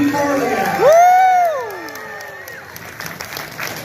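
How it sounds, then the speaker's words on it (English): A comic convention crowd at a voice actors panel applauds and cheers while an amplified voice rises over it, the clapping and whoops continuing beneath and fading somewhat toward the end. "let's get the applause really going"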